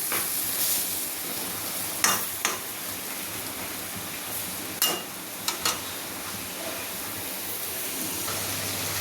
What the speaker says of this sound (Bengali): আদা পেঁয়াজ বাটা দেওয়া হলো, এবার একটু কষিয়ে নেওয়া হচ্ছে